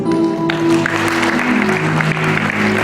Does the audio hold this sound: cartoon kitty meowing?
no